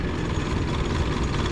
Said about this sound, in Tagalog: Maandar yung makina, umiikot, kaya lang